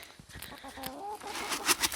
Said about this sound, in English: Oh, what are you doing up there, Dorothy? Are you a bad chicken?